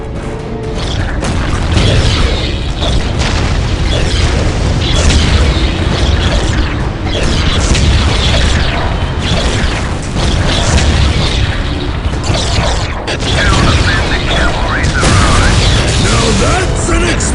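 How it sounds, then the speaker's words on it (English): Loud, dense explosions and booming crashes roll on continuously, mixed with battle noise and shouted voices, in the PC game Dawn of War: Winter Assault during a battle against Necrons. "That's an explosion!"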